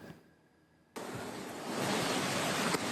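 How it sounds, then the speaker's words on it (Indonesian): Floodwater from an overflowing river in Nagari Sanyang Baka, Solok, West Sumatra, rushing past homes: a loud, steady broadband roar that bursts in after a quiet moment and keeps building. "Sungai di Nagari Sanyang Baka, Kecamatan Kalikoto, Singkarak, Solok, Selasa kemarin kembali meluap dan menerjang perumahan warga"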